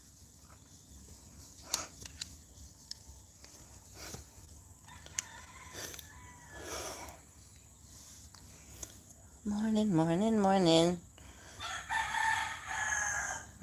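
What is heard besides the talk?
rooster crowing outside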